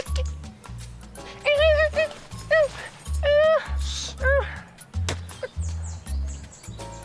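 A person barks and yips in imitation of a dog, several short bursts in a row, with low rhythmic thumping underneath.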